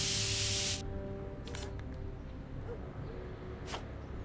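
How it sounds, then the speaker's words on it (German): A spray can lets out a loud, steady hiss for nearly a second in Back to the Future: The Game, then cuts off, followed by quieter short game sounds. "Gib mir mal eine Sprühdose. Ich muss dringend was sprühen."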